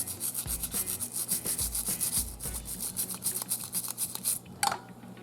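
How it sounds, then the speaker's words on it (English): A small part from a restored Redline Sweet 16 Hong Kong custom Barracuda toy car is scrubbed clean in brisk, uneven rubbing strokes, close and quiet, ending with a short clatter. "while we're scrubbing this one"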